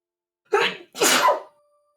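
A single close, loud human sneeze, a short intake burst followed by a sharper explosive release, heard alone in silence.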